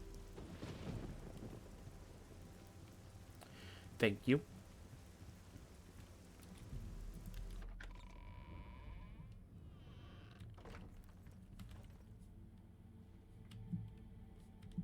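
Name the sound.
rain and thunder in video game Oblivion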